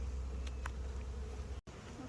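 Honey bees buzzing at an opened hive during frame inspection, a soft continuous hum with a few brief nearer passes, faint and low in level.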